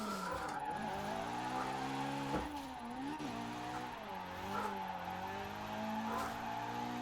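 A rotary-engined drift car with race turbos in Forza Horizon 4 drones at high revs, its pitch rising and falling with throttle changes while tires squeal in long skids, steady and close with no talk.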